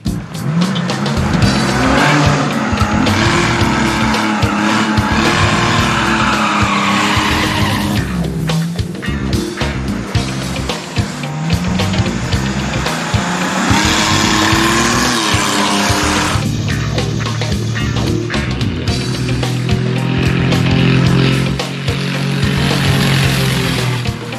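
Cars run hard at a hot rod drag racing event, including a Volkswagen Beetle with a mystery motor making a pass, with loud roaring engines, shifting pitch sweeps and tire squeal over a continuous crowded racetrack din.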